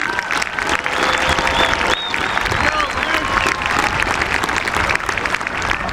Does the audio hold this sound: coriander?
no